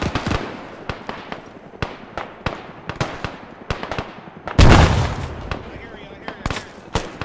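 In a video game firefight, a frag grenade goes off with one loud, booming, close blast partway through, surrounded by sharp bursts of rapid gunfire and a voice speaking.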